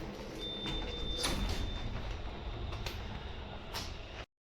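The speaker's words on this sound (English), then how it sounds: "Doors opening. That's quick. Oh, doors got stuck" Otis lift doors in a building in Scotland slide open, a steady mechanical rush with a faint high whine and a few soft clunks, running continuously for about four seconds before cutting off abruptly.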